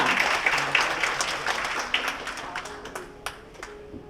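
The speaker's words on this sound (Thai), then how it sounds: "ขอเสียงปรบมือด้วยค่ะ" Guests applaud at a Thai engagement ceremony in a hotel, a burst of clapping that gradually thins and fades over a few seconds.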